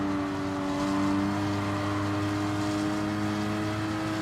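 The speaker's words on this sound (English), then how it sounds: "I'm starting to push the revs a little bit" Race car engine in GT Sport on the Goodwood circuit, a steady high-pitched drone with strong harmonic whine held at constant revs, loud and unbroken with no talk.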